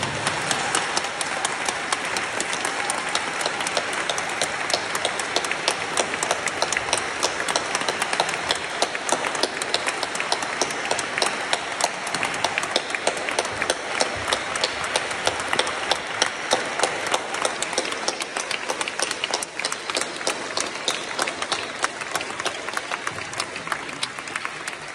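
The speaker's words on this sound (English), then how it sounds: "Can we give to God the Father a beautiful round of applause to the Father?" A church congregation at a healing retreat in London applauds in a sustained, dense roll of clapping that holds steady and fairly loud for the whole stretch, with no talking.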